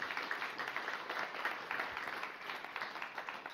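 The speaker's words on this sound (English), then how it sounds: "let's have a round of applause for our canine buddy teams" Applause from the audience at a guide dog graduation ceremony, soft and somewhat distant clapping with uneven pulses that continues steadily at low volume.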